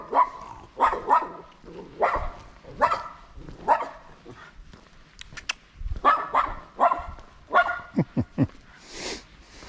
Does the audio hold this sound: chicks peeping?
no